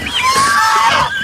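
Pigs squealing and oinking at feeding time on a farm, fed kangkong and rice bran mixed with vitamins, a dense, continuous high-pitched chorus close by across the whole moment.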